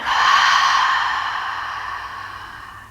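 A long, steady breath blown out through the mouth during a relaxed yoga breathing exercise, a soft airy rush that swells at once and then slowly fades over about three seconds, close and alone.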